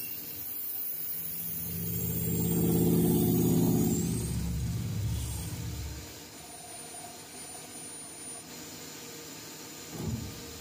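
A CNC metal spinning machine works a copper pot, a loud droning whir that swells over the first few seconds, then settles into a fainter steady hum with a brief knock near the end.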